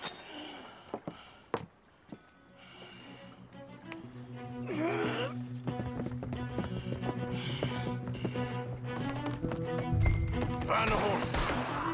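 Horse hooves clop and a horse whinnies amid Red Dead Redemption 2 game sound effects and a sustained musical score, with a few scattered impacts.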